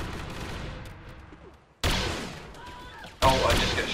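Gunfire in the Mount & Blade Warband game, two sharp loud blasts that cut into a quieter background, the second following about a second and a half after the first.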